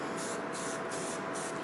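Aerosol spray can hissing in one continuous burst, a bright, steady, close spray sound with no pauses and no voices over it.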